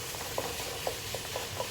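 Meat frying with vegetables in a pan gives a steady broadband sizzle, with a few soft stirring scrapes at intervals, moderately loud and close with no voices.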